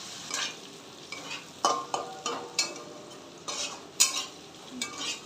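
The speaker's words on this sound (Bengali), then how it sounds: "চিংড়ি মাছটা ভাজি" Prawns fry in a karahi for a Bengali lau chingri dish, giving a soft steady sizzle. Sharp stirring scrapes and clinks come at irregular intervals, about once a second.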